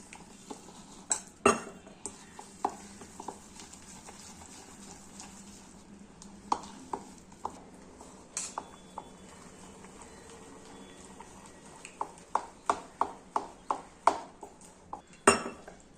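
Rice flour, salt, turmeric and sugar being mixed into batter in a bowl, giving soft stirring and scraping with sharp clinks of a utensil against the bowl, faster taps near the end, quiet and close.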